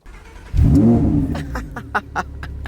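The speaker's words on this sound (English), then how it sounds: "I'm gonna start the car up and show you the stock sound" A stock 2020 Lamborghini Huracan EVO engine cranks and fires up with a loud roar, then settles into a rumbling idle punctuated by sharp pops and crackles.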